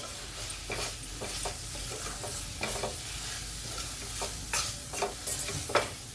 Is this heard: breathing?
no